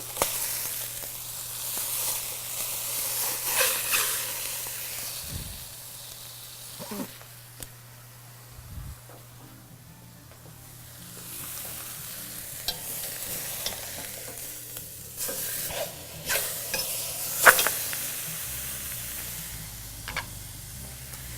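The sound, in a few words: ham searing in a pan, turned over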